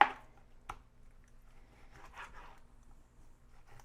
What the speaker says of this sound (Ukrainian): Я от трішечки тут пообрізаю є такі жирні частинки.